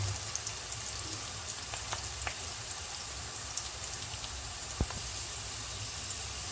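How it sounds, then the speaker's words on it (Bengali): Onions sizzle and crackle steadily in a hot pan while softening for a dried-fish (sutki mach) dish, a constant close frying hiss with small pops and no voices. "এটা আমি কুক করবো যতক্ষণ না এটা আমার পেঁয়াজটা একটু নরম হয়ে আসে"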